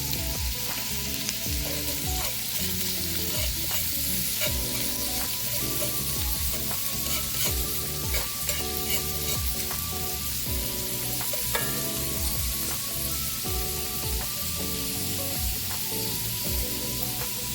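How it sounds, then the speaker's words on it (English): Food sautéing in a pot ahead of adding ackee and bacon for a Jamaican dish, giving a busy, steady sizzle with rhythmic scraping and clattering of a spoon stirring against the pot, no voices. "I'm just gonna saute it for 2 to 4 minutes."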